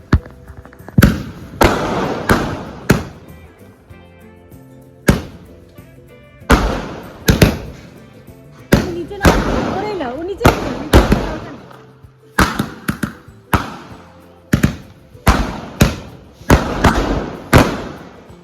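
Sky shot fireworks lit on a rooftop during a Bhai Phonta celebration go off in a long series of sharp, loud bangs and pops, some in quick clusters, with echoing tails between blasts.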